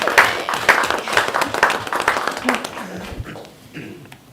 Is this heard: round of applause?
yes